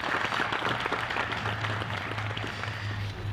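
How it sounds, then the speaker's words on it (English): A crowd gives sustained applause for Commander Gallagher at a 2021 Memorial Day ceremony at the Ellwood House Museum in DeKalb, Illinois, a steady wash of clapping with a low hum beneath. "let's give Commander Gallagher a nice round of applause"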